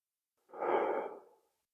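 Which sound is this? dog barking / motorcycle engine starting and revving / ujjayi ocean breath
ujjayi ocean breath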